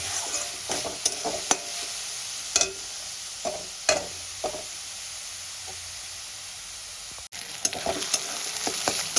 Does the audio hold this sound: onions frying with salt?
yes